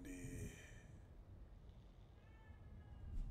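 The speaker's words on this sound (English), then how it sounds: "this cat is in my ear. This cat is really in my ear." A cat meows in a video game: one drawn-out, fairly loud meow at the start, then a fainter second meow later, over a steady low hum of game background noise.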